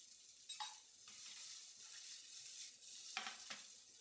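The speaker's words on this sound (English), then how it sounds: "we heat up a bit of oil in a pan and we sauté the onions and the chilies" Onions and chilies sautéing in a little oil in a pan, a soft, quiet sizzle broken by a few sharp scrapes and stirring clatters, with no talking.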